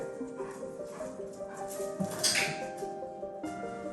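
During a heeling training session, a nearby dog gives high, wavering whimpers and short yips in quick succession over faint background noise.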